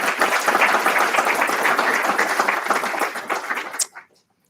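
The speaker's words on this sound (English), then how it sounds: "let's give him another big round of applause for that" A seminar audience applauds a speaker with sustained, dense clapping at fairly close range, holding steady before stopping abruptly into near silence.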